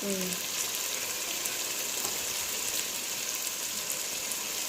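Food sizzles steadily in a pan as chili powder and turmeric are stirred in, a dense, continuous frying hiss close by with soft scraping from the stirring and no talk.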